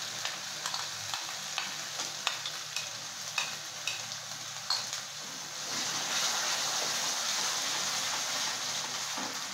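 A yogurt spice mix frying in a pan with onion, ginger and garlic for a pomfret dish, first with intermittent stirring clicks over a soft sizzle, then a louder, steady frying hiss in the second half.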